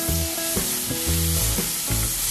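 Garlic and lemongrass sauté in hot oil left from frying chicken, a loud continuous sizzle layered with rhythmic scraping and stirring strokes, with no speech.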